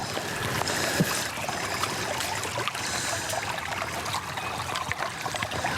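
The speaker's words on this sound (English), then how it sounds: "the noise produced by rushing water is avoided when setting up" Creek water rushing and trickling in a steady, close, continuous wash with small splashy bursts, with no voices.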